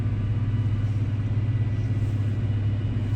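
An LM2 diesel engine fitted with an S&B intake runs on a dynamometer, a steady, loud, low engine rumble that holds even throughout without clear revving.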